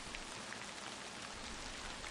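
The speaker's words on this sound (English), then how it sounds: "And the moment I said that, it rains on command." Rain falls steadily in the video game Purgatory 2, a soft, even hiss of drops on surfaces, continuous and fairly quiet with no voices over it.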